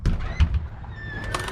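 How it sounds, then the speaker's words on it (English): A house's front door opening on a 10-acre Florida farmhouse: a short thunk followed by a brief creak and rustle, close and fairly loud. "So we're going to enter the front door."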